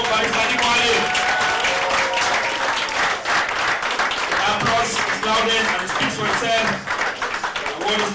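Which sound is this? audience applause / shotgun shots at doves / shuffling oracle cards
audience applause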